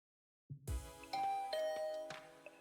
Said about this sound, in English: I rang her doorbell and waited for a bit